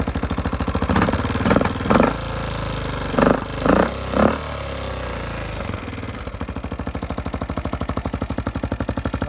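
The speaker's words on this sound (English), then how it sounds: "It's idling off a choke now." Rebuilt Honda XR650L motorcycle engine idling on choke close by, carburetor mixture not yet adjusted, with a rapid, steady chug, briefly revved a few times before settling back into an even putter.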